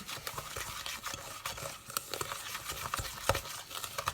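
Brown sugar and cane sugar are stirred together in a bowl, giving soft, close, gritty scraping and pattering strokes in a quick uneven rhythm, quiet and alone.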